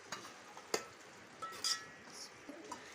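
A spoon stirs tinda masala curry in a pan, giving soft scraping with a few sharp clinks against the metal and faint sizzling underneath, quiet and close, with no talking.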